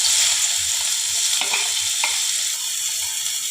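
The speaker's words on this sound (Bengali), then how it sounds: "এবারে আমি কুচনো একটু তেল কমিয়ে নিয়ে কুচনো পেঁয়াজগুলোকে একটু ভেজে নেব।" Chopped onions fry in a shallow layer of oil in a pan, giving a steady bright sizzle with a couple of brief stirring scrapes, close and fairly loud, with no voices.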